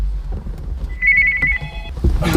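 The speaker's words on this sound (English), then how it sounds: "Oh, here comes the phone." A telephone rings in a busy office setting, a single electronic ring tone lasting about a second over low background rumble, fairly clear and close.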